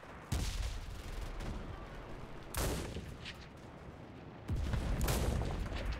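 Gunfire in the video game Enlisted breaks out in three loud bursts. Each onset is sharp, and dense battle noise rumbles steadily between them.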